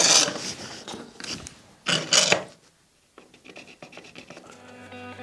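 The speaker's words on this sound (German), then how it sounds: "Und dann muss ich das Holz natürlich auch kürzen." Wood is cut to length with a few loud, rasping hand-saw strokes, followed by a brief pause and lighter scraping and tapping noises near the end.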